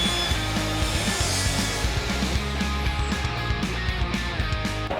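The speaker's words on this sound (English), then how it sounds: "That was a 13-inch crosscut on this sucker without any trouble." A power saw crosscuts through a 13-inch wooden board for a desk build, producing a continuous loud, dense buzzing whine with steady motor rumble for the full span, with no speech.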